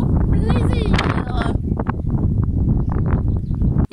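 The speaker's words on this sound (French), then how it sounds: "Le vent est toujours là, tu peux l'entendre." Wind gusting outdoors beside a parked van, a steady loud broadband rush filling the whole clip, with a brief high whistling tone early on and faint rustling underneath.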